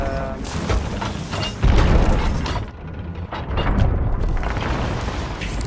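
Ship cannons fire at a megalodon in Sea of Thieves, heavy booms and mechanical clanks over dense, loud game noise, with a big blast near the middle.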